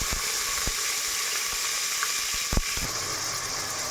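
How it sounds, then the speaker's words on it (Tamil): Onions sizzle steadily in hot oil with fennel seeds for a mutton curry, a continuous close hiss broken by a few sharp crackles and pops, with no voices. "இந்த வெங்காயம் நல்லா பொன்னிறமாக வதங்கி வரட்டும்"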